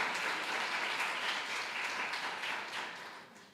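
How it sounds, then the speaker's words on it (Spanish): A church congregation applauds loudly together, a dense, sustained wash of clapping that holds steady, then thins and fades toward the end. "Si le va a aplaudir, que sea bien fuerte ese aplauso"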